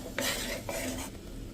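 A spoon scrapes and stirs semolina and gram flour through hot ghee in a pan, three quick scraping strokes with a soft sizzle underneath, close and clear with no talking.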